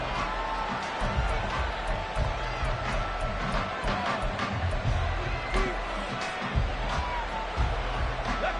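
A football stadium crowd murmurs and roars during a Panthers drive: a dense, steady wash of distant voices with scattered shouts and thumps, loud throughout.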